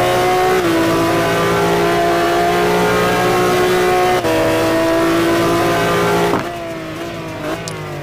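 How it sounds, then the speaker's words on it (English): A McLaren F1 GT1 race car, number 38, drives a qualifying lap at Sebring, its engine droning loudly and steadily with brief pitch drops at gear changes, then falling away quieter near the end. "Greg is driving the number 38, McLaren F1"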